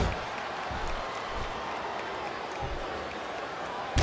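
A wrestling crowd at a 2007 WWE Unforgiven match for CM Punk versus Elijah Burke gives a sustained roar with scattered applause, a steady arena wash heard under commentary.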